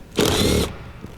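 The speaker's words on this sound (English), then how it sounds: "Remove the 10mm bolt" A power tool whirs briefly while removing a 10mm bolt from the rear seat of a 2012 Honda Civic Hybrid, a single burst of about half a second, close and loud, followed by a faint click.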